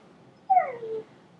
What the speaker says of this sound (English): Look at the wee little puppies.